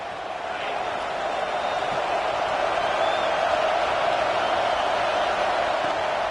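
A stadium crowd in the college football video game NCAA 26, Oklahoma vs Tennessee, roars loudly and without a break in a dense, even wash of noise, as if a whole home crowd is cheering together.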